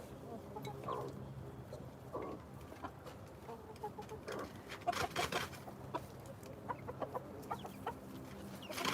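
A hen sitting on a nest clucks softly and intermittently in a Georgia farm setting, with scattered low calls and faint rustling under a steady background.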